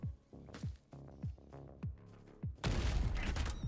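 In a Netherworld Arena video game match, Splody Panda's bazooka blasts thump in a rapid series of punchy booms, then break into a loud, dense burst of Uzi-style fire and explosions at the end.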